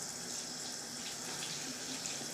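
Hot water runs steadily from a tap into a sink, a continuous soft hiss and splash, close but fairly quiet, with no voices.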